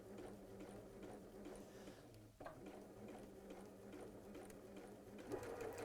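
A domestic sewing machine stitches a table runner in a continuous, quiet, rhythmic whir with steady needle ticking and no voices.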